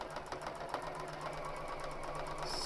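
A sewing machine stitches a selvedge quilt strip, a soft rapid mechanical whirr running steadily and fairly quietly, with no voices.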